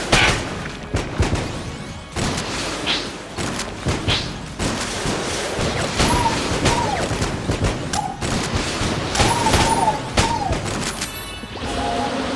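Rockets firing and exploding in the Exit the Gungeon video game, a series of irregular booms and crashing impacts at moderate loudness, with frequent bursts throughout.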